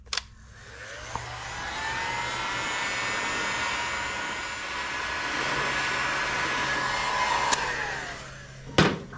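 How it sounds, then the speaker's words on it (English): A heat gun blows a steady, loud, close rushing whir onto a part of a Vespa Rally 200 scooter engine, with a click as it switches on, a sustained tone, and clatters at the end as it is shut off and set down. "you only use a heat gun on this guy right here"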